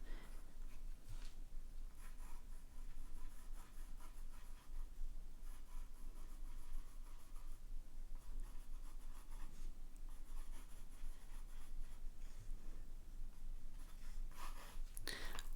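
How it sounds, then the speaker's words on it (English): A Pilot Kakuno fountain pen with a fine nib scribbling on paper, continuous soft scratchy strokes with brief pauses, quiet and close. "I'm just scribbling here."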